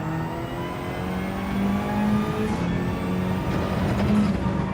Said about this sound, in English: Just stay out of the way of this car that's coming around.